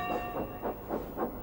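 Train wagons roll along with a steady, rhythmic clickety-clack, about four even beats per second, joined by a faint hiss, all at close range with no voices.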